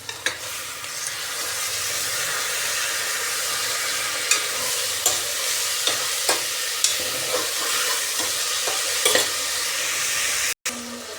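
Four medium chopped tomatoes fry with ginger garlic paste in a pan for Karnataka-style tomato rice. There is a continuous close sizzle with periodic scraping knocks from a stirring spoon and no speech.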